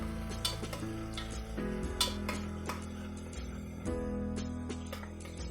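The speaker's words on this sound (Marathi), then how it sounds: "मिरच्या करत असताना लक्षात ठेवायचं की या जळायला नको, फिरवत राहायचं याला" Chillies frying on high flame for veg biryani, with a steady close sizzle under repeated clinks and scrapes of a spoon stirring the pan.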